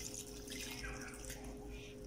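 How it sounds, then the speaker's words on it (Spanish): Water pours from a small jug into a pot holding tomatoes and chiles, a faint, steady splashing trickle that runs continuously for about two seconds. "Aquí yo tengo una jarrita con agua y le vamos a agregar"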